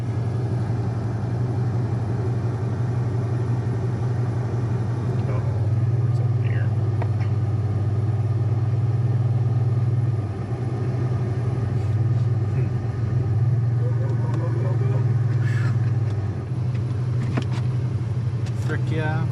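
A 2006 Chevrolet Monte Carlo SS, started after sitting for years, runs with a deep, throaty, steady engine rumble close by, while people talk over it throughout.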